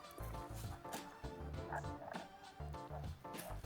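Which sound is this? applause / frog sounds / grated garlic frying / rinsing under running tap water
frog sounds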